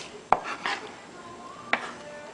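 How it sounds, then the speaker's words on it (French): A knife cutting through an onion on a board, two sharp distinct chops spaced over a second apart against a quiet kitchen background. "La première étape est de couper l'oignon."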